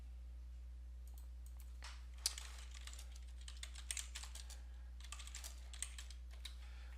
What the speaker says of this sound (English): I'll type in graphic designer about page.